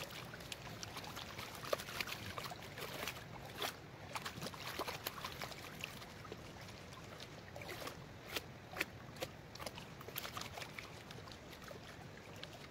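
Water sloshes and trickles as gravel is panned for gold on a river gravel bar, with irregular splashes and rattling stones continuing steadily up close.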